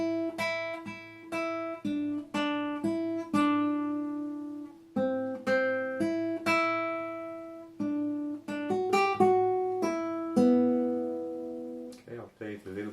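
Solo fingerpicked acoustic guitar playing the melody line of a song alone, in clear plucked notes with short pauses between phrases, close and ringing.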